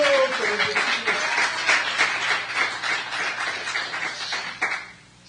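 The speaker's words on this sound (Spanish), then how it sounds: "Denle un aplauso al Señor, hermano." A church congregation gives a short burst of applause, moderately close and steady before dying away abruptly near the end, with a voice heard over it at the start.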